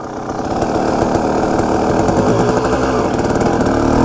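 A Kawasaki KX250 dirt bike engine runs steadily and loud up close, a continuous buzzing drone that holds even for about four seconds with no talking.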